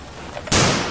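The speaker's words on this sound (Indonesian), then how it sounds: "Wah, ini keren sekali teman-teman. Tembakan AK-74." A toy soft bullet blaster styled as an AK-74 fires once, a sudden loud burst snapping in near the mic after a quiet lead-in and ringing briefly to the end.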